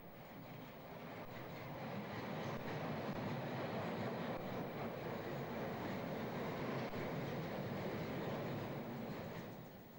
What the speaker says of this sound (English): as trains hurry by.